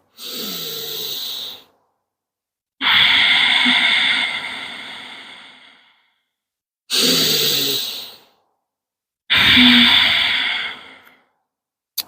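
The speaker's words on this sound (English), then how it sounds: "Full deep breath out." Deep breaths in a yoga breathing exercise, four long airy exhales and inhales, close and loud, each separated by a second or so of silence.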